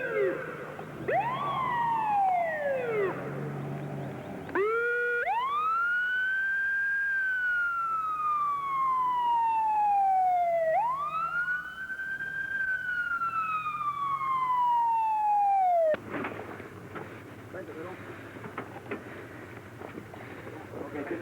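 A loud ambulance siren wails in long rising and falling sweeps, close by, during an earthquake drill in Caracas, then cuts off abruptly into background noise.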